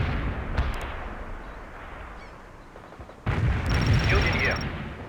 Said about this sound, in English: Mortar strike completed. We hit hostile forces.